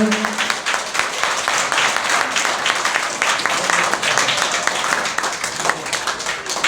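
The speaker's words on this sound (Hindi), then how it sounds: "तालियों की गड़गड़ाहट के साथ हमारे जगदीश जी सर का अभिनंदन" Crowd applause honours Jagdish ji, a teacher, at a farewell ceremony of a government upper primary school in Khakharmala. Dense, steady clapping fills the whole stretch with little let-up, and a voice is faintly present underneath.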